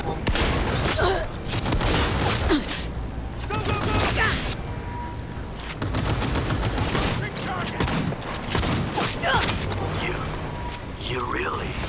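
Gunfire in the video game Cyberpunk 2077 rattles in dense, repeated bursts and booms throughout, loud and continuous, with voices shouting over the combat.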